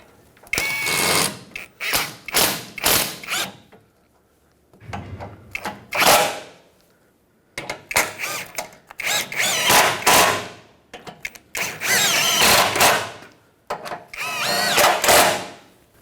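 Power tool, likely an impact driver or drill, tightening 14 mm front lower control arm bolts on a 2012-2019 Fiat 500, in repeated loud close bursts with short pauses between them.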